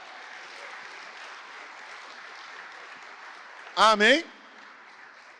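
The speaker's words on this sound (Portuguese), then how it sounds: "aplauda ao poderoso Deus" Congregation applauding in a church during a sermon, a steady broad wash of clapping throughout with a preacher's voice briefly calling out over it.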